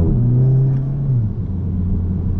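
A 2017 Volkswagen Golf GTI with a 2.0 turbo engine drives along, a steady low engine drone and road rumble from inside the cabin that dips slightly in pitch midway, loud and continuous, no talking.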